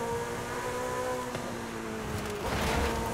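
A 2023 Porsche Turbo S Brabus with a 4.8 V8 hybrid engine drones steadily with a rising, revving tone near the end, loud and close, with no voices.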